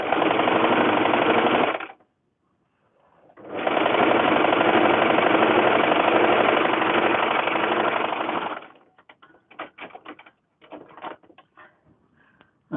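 A sewing machine stitches a quarter-inch quilt seam on fabric pieces for a Japanese lantern quilt block, running in two loud, steady bursts with a short pause between them, followed by scattered light clicks and taps.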